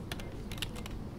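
A brief burst of typing on a computer keyboard, several quick, light keystrokes clicking in an irregular rhythm, close and fairly quiet against a soft background hum.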